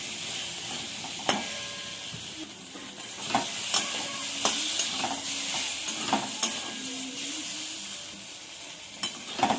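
Vegetables with turmeric and salt fry together in a pan, a continuous close sizzle broken by scattered clinks and scrapes of stirring.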